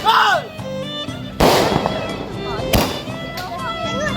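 Firecrackers set off during a family Hari Raya gathering, two sharp loud bangs a little over a second apart, with voices chattering around them.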